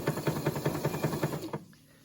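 A sewing machine runs a zigzag stitch on an appliqué with a rapid, even chatter of about eight stitches. It then stops abruptly, leaving quiet, and no one speaks.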